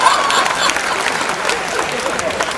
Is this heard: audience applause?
yes